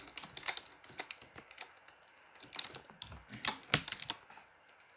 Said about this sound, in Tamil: ஓகேவா டைப் பண்ணிட்டேன்